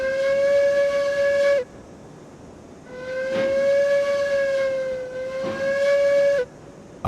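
Steam locomotive whistle in the railroad game Railroads Online, sounding in three long, loud, steady blasts: one about a second and a half, then two longer ones separated by a short gap, with a faint hiss of steam between them.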